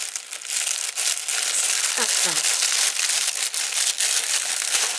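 Continuous crinkling and rustling of thin tissue paper being handled up close while unboxing, with a brief soft voice sound partway through.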